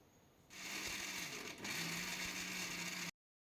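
A mixer grinder whirs loudly and steadily while grinding roasted coconut into powder for about two and a half seconds, then cuts off abruptly.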